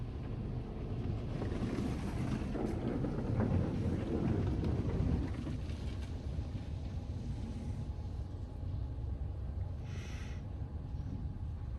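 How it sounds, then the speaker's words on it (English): A car wash rain arch rinses a vehicle inside a PDQ Laserwash 360 plus automatic wash bay, a continuous heavy watery roar that swells in the middle then eases to a steadier hiss, close and loud, with no talking. "We got our rinse in the rain arch."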